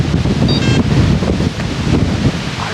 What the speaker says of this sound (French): Le vent par contre c'est insoutenable.